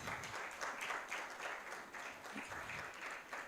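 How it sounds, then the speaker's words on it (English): Conference audience at an intellectual property event breaks into applause, a dense, steady patter of many hands clapping at moderate loudness and sustained throughout, with no one talking over it. "A round of applause."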